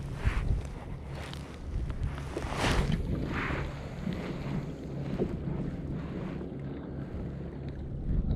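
Steady sea wind buffets the microphone on open water during a fishing trip from a small boat, a continuous low roaring rush with gusts that swell and fade throughout, with no talking.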